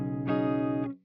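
Guitar through the clean channel of an ML Sound Lab AMPED CB4 amp sim with the bright switch on: a short sustained chord, bright and ringing, that cuts off abruptly with a new note starting at the end.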